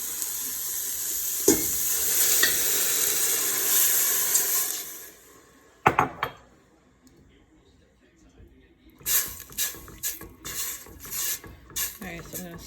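A sizzling mixture of Texas Mexican paste and water is stirred in a pan: steady frying hiss that fades out, then a burst of stirring, then scrapes and clatters in short uneven bursts.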